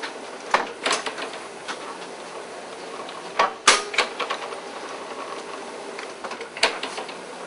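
A machine works croissant dough, giving irregular mechanical clacks and thumps with a few louder knocks and a faint whirring underneath, close and without speech.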